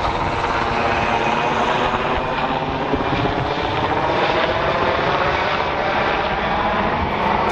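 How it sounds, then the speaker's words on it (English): A helicopter passes overhead, a loud continuous whirring rotor and engine drone that holds steady throughout with no other sounds. "I'm gonna let this helicopter pass right over top of me."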